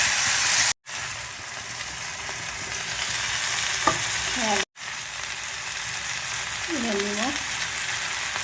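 Tomatoes and spices fry in a pan with a steady loud sizzle throughout, broken by two brief cuts, with faint clinks of stirring.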